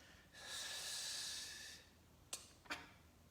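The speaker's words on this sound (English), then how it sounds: "as you exhale, emptying a breath from the top down, sending it back where it came from" A long, slow breath exhaled steadily for about a second and a half, soft and airy, followed by two short, sharp sniffs or quick inhales close to the microphone.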